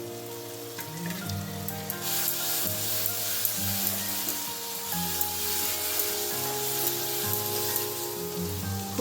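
Prawns in spice paste fry in a pan with a steady close sizzle and soft stirring scrapes, over a low background hum.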